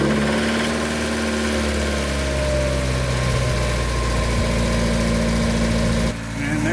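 A 1988-1991 Honda Prelude engine idling steadily after a valve lash adjustment, a loud, continuous low hum with constant vibration, close up, dipping briefly near the end.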